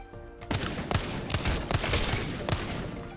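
Wingman pistol fire in Apex Legends: a run of about seven sharp, punchy shots at a steady, fairly quick rhythm, loud and close with game ambience underneath and no talk.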